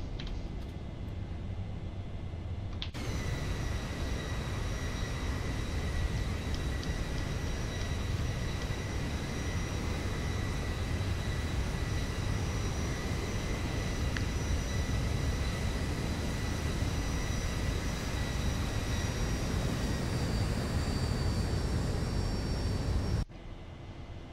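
Jet engines of a Boeing 737-700 in a flight simulator roar loudly and steadily through the takeoff climb, a broad continuous rumble with high turbine whines, holding level for about twenty seconds.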